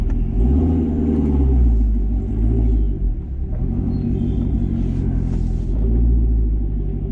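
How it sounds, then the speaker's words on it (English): A C7 Corvette ZR1's deep, rumbling AWE exhaust drones loudly and close up, the engine note rising and falling as the car accelerates and cruises. "We're gonna take the first voyage, I guess, in the ZR1 with the AWE exhaust."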